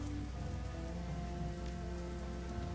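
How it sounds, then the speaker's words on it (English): Rain in the video game Shadowrun: Hong Kong, a soft steady patter of raindrops on surfaces, faint and continuous with a low ambient hum beneath and no voices. "It's raining."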